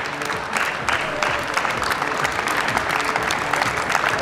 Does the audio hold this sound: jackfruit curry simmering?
no